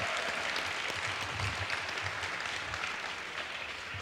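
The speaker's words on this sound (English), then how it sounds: "can I have a round of applause for all the 12 teams?" Applause at a Garage48 Telecom hackathon award ceremony at Kultuurikatel, steady and moderately distant clapping from a seated audience, fairly even throughout.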